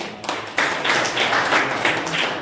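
An audience at the inauguration of a 3D printing training program claps warmly, a brief burst of applause building quickly and staying steady at close range.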